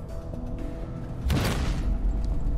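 Explosive bombardment boom in a fantasy TV drama battle scene, a single heavy burst erupting midway over a low rumbling background, then a sustained roar.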